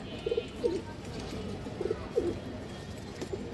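A male Silver Blood racing pigeon coos in short soft throaty bursts, two pairs of low coos spaced across a few seconds, close by over a quiet murmuring background.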